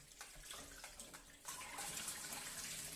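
Water is poured out of a bowl of soaking chicken wings, a steady faint splashing flow that grows louder and fuller halfway through, with no voices.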